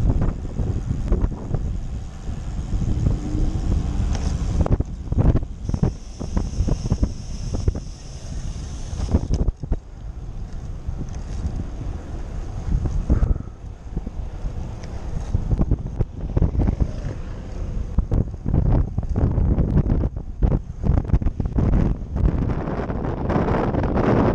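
Strong wind on a newly paved road during a road bike ride buffets the microphone in loud, roaring gusts that rise and fall throughout.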